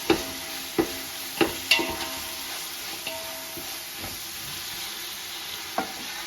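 Mutton biryani masala with curry leaves, mint and ginger garlic paste fries and sizzles in a pan while a spoon stirs it, steady crackling broken by several sharp scraping clinks of the spoon, no voices.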